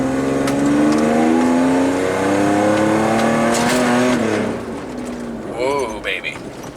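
A 3rd gen Toyota 4Runner with a performance chip, heavy bumpers, rock sliders and loaded gear accelerates hard, its engine rising in a loud climbing roar before easing off, with voices exclaiming near the end.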